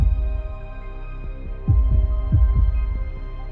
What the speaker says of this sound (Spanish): Volvieron sus latidos sordos e irregulares.